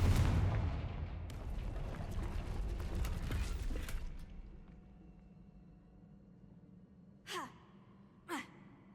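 A Confringo blasting spell in Hogwarts Legacy erupts in a loud, roaring burst that rumbles for several seconds before fading, followed later by two short, sharp cracks.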